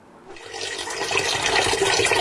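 Water gushes loudly from a burst pipe on a city street, a close, steady rushing roar that swells after a brief quiet start.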